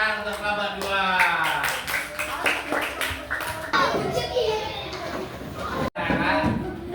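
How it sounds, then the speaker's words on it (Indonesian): Schoolchildren in a classroom clap for a group after a math exercise, a burst of scattered applause mixed with children's chatter and a teacher's voice, fairly close and lively. "Tepuk tangan untuk kelompok 2."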